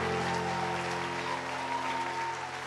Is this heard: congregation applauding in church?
yes